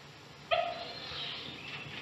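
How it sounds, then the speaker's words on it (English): A single sharp yip from a small dog, likely a Pekingese, in an old movie scene, brief and fairly clear over a constant background hiss, trailing off into faint whine-like tone. "And I want a dog."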